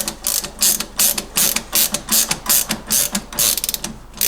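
A socket ratchet tightens the shock absorber pinch bolt on an MGB during a suspension rebuild, giving rapid rhythmic clicking in quick back-and-forth bursts, close and loud with no talking.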